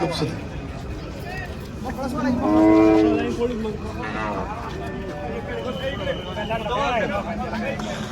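A bull at the Chakan cattle market gives a long, loud, low moo, followed by shorter lowing calls, while people chatter and bargain amid the general market hubbub.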